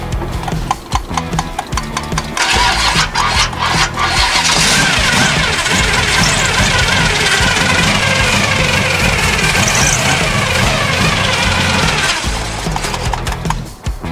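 An old 1974 Chevrolet car, unstarted for years and running on old gas, cranks and then catches, its engine rumbling loudly and close with uneven revving and sputtering throughout.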